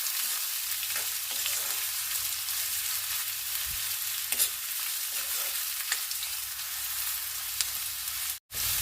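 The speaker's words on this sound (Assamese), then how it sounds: "পিঁয়াজখিনি ধুনীয়াকৈ ৰঙচুৱা হোৱালৈকে মই ভাজি ল'ম।" Onions fry in a pan with a steady close sizzle and occasional soft scraping stirs, followed by one brief drop to near silence near the end.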